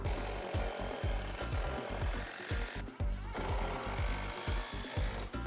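A power driver hammers 5-inch lag bolts into ceiling trusses for faux vaulted-ceiling beams, giving a continuous rapid, rattling impact chatter with brief pauses, close and loud throughout.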